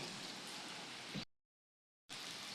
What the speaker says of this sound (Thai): อากาศฝนตกนะครับ ก็แรงมากเลยนะครับ